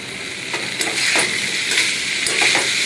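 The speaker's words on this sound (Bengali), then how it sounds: "দেখো বন্ধুরা, ডুমুর আলুটা ভালো মতো ভাজা হয়ে গেছে।" Figs and potatoes frying in hot oil in a pan for a home-cooked Bengali dish, a steady sizzle with a few sharp stirring scrapes and clinks, close and moderately loud with no talking.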